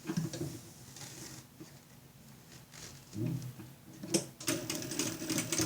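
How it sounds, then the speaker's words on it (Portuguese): A sewing machine stitches a fabric school pencil case along its edge with backstitching. The motor whirs quietly in short irregular runs, and louder bursts come near the end. "Agora, vamos fazer uma costura até aqui, o final aqui."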